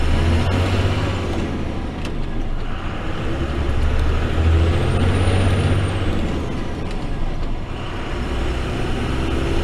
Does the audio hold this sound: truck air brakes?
yes